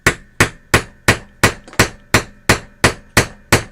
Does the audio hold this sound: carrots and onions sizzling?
no